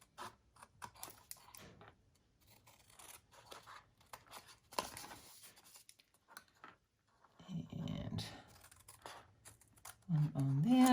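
Scissors snip through paper card for a holiday gnome gift card and box, several short crisp cuts in irregular bursts, close by, with quiet talk in between.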